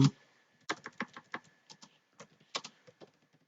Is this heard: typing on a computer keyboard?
yes